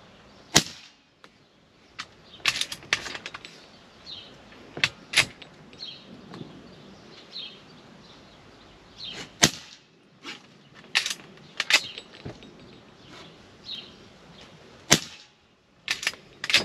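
Umarex RP5 4.5mm pump-action air rifle being pumped and fired: a series of sharp, loud cracks and snaps spaced irregularly across the clip, with clicking and mechanical handling noises between shots and no talking.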